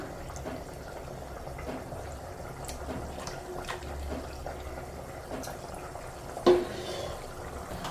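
Low, steady bubbling of salted water boiling in a pot, with small clicks and one brief louder knock near the end.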